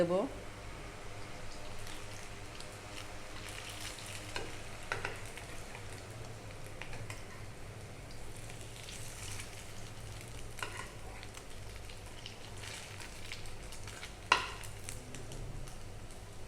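Fish egg fritters frying in hot oil give a steady low sizzle while someone speaks over it, with faint clinks of the utensil as the fritters are turned one by one and a sharp tap near the end.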